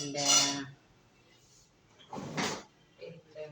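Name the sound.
stirring lentils in a cooking pot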